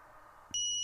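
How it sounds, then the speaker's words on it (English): A quadcopter drone's lost model alarm kicks in abruptly with a loud, steady, piercing electronic tone after a short stretch of low background hum. "my lost model alarm goes off"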